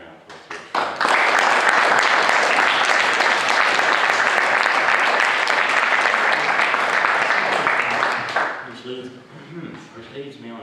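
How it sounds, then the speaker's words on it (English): Loud audience applause rises sharply after a second and holds steady for about seven seconds before tapering off, with a voice beginning to speak as it fades. "I just want to give a big round of applause to"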